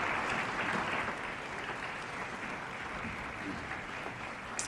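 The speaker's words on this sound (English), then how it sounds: "the applause that you hear there is a large number of Democrats leaving the chambers in protest" Sustained applause fills a legislative chamber as a large group of Democrats walks out in protest, a broad, even wash of clapping heard at some distance with no speech over it.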